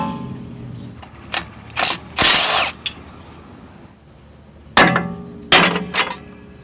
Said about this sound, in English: then hit it with a hammer to free it from the steering knuckle